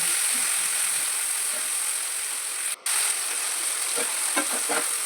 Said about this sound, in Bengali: একসাথে সব ভাজা হবে টমেটো দিয়ে দিলাম টমেটোটাও ভাজা হবে এই তেলে